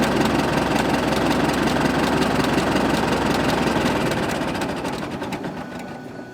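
Big, heavy engine of a 1913 Regal Underslung car running steadily with a fast, even mechanical clatter, loud and close, easing off slightly toward the end.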